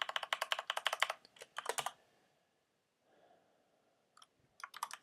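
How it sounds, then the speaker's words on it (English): Rapid clacking keystrokes on a Corsair Gaming K95 mechanical keyboard, close and crisp, in fast bursts with a brief quiet pause before the typing resumes. "Ciderol, your keyboard sounds amazing."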